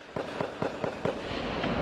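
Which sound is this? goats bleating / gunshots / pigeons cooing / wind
gunshots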